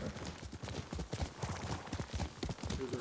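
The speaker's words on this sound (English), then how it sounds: "Here's her horse." In Ghost of Tsushima, a horse's hooves clip-clop in a quick, steady rhythm nearby for a few seconds, carrying over low ambient game sound.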